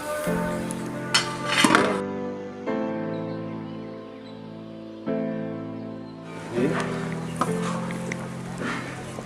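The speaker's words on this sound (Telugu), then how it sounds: "బియ్యం వేసుకున్న తర్వాత ఒకసారి బాగా కలుపుకోవాలి" Rice is stirred in a large metal cooking pot for a village-style chicken curry pulao cooked for ten people. A spoon scrapes and clinks against the pot, with sharper knocks near the start and near the end.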